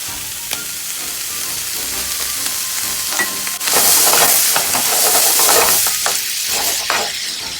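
Pasta sizzles and hisses as it fries in a pan, a soft crackle that bursts into louder, steamy sizzling about halfway through, with scattered stirring clicks.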